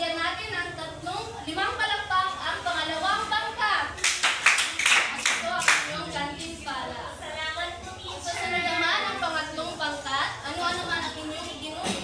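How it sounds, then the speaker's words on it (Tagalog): Children applaud together in rhythmic group claps, a loud burst of clapping rising briefly over a background of chatter and talk in a classroom or school gathering. "Bigyan natin ng 5 palakpak ang pangalawang"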